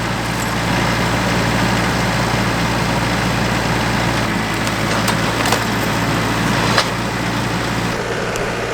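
A Branson tractor engine runs under load while pulling a fence post out with a chain, a loud, steady diesel drone throughout with a few faint clanks, no talk.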